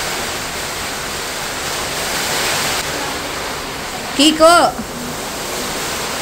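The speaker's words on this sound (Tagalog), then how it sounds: "Napakalakas po ng ulan at hangin." Heavy typhoon rain and strong wind roar steadily beside a house near rice fields, a dense continuous wash with a brief voice calling out partway through.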